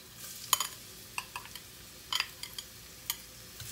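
Garlic goes into hot oil in a frying pan, giving a faint sizzle broken by sharp clinks and scrapes of a utensil against the pan at irregular intervals, close by with no talk.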